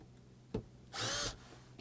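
A power drill with a Phillips bit whirs in one short burst of about a third of a second removing screws, with faint clicks and handling noises before and after.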